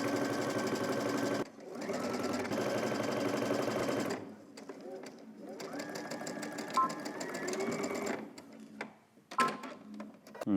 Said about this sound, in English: we're going to head to the machine. We're going to start on one end and stitch all the way across this curve here